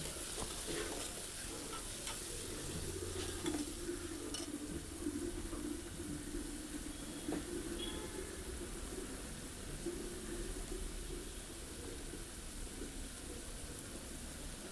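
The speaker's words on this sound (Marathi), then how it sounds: "बारीक चिरलेले हे आपण फोडणीवरती टाकून मस्त असे सोनेरी कलर येईल असे भाजून घेणार आहोत" Steady sizzling of finely chopped onion frying in oil, with occasional soft stirring scrapes, continuous and moderately close, no voices.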